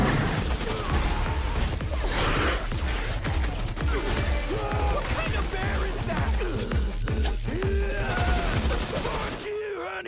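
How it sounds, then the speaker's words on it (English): Game characters open fire on a bear in a video game, a dense barrage of gunshots and rapid bursts that runs almost nonstop, loud and close, while voices shout over the shooting. "Should we shoot it? Fuck yes, Coots. Let's shoot it"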